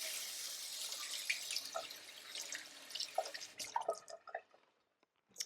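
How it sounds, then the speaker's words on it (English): Water runs from a sink tap while hands are rinsed clean of raw egg, a steady splashing hiss close by that breaks into scattered drips and trickles before stopping. "Let me go wash my hands real quick to get the egg off."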